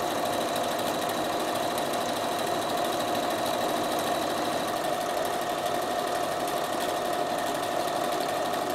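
A Bernina sewing machine running steadily at speed while sewing a tight satin stitch with the ordinary foot, a continuous close, even hum and rapid rattling throughout without pause.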